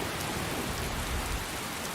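Steady rain pouring in the video game Skyrim, a dense continuous hiss of falling drops with a low rumble, uniform and alone.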